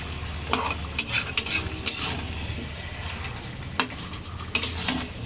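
Masala for Mughlai chicken, spiced with garam masala powder, stirred and fried in a pan: a steady close sizzle with irregular scraping strokes of a utensil, several sharp clinks against the pan.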